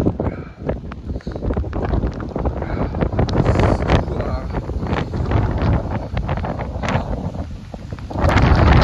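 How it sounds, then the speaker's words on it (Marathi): Strong gusty wind buffets the microphone in a steady loud roar near Ozarde (Navaja) waterfall in Patan, Satara, during cold monsoon weather with rain drops, broadband rumble throughout and a louder surge at the end. "वारं सुटले भयंकर."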